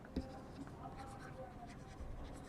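A pen writes out notes during a chemistry lesson, giving soft, continuous scratching strokes with a sharper tap near the start, faint and close under a low background hum.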